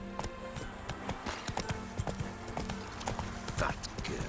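A horse gallops in The Witcher 3, its hooves a rapid, steady clip-clop, close and fairly quiet, with faint game ambience behind.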